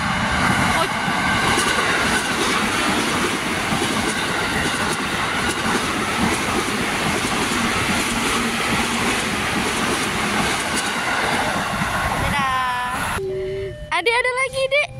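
An electric commuter train (KRL) rumbles past close by in Indonesia with steady rolling wheel noise for a long stretch, then fades as a horn-like tone and chatter emerge.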